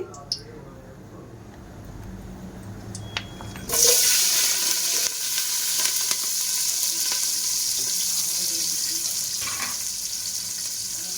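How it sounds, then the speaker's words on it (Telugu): Onions and green chillies frying in a pan for a spicy mutton head curry, a steady broadband sizzle that starts abruptly a few seconds in and carries on loud and continuous, with quieter kitchen noise before it. "ఉల్లిపాయలు, పచ్చిమిరపకాయలు ఫ్రై చేద్దాము."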